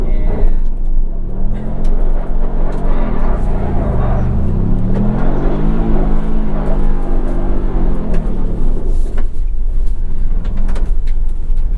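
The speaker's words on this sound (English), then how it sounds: "That was actually a proper donut there." A Ford Bronco spins donuts on loose gravel, its engine droning loud and close with the pitch rising and falling through the turns, under a steady rush of tyre and stone noise.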